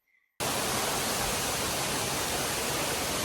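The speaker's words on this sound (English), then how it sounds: "I am knee deep in the jungle going towards this waterfall." A jungle waterfall roars in a dense, continuous wash of rushing water, kicking in loud and close after a brief quiet moment.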